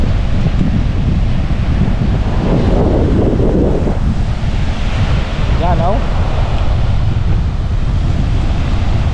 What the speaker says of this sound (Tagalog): Medyo malaki na ang alon.